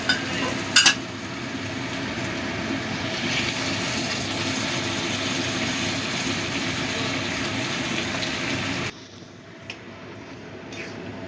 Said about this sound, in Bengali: এবার আমি দিয়ে দিচ্ছি পরিমাণ মতো গরম জল।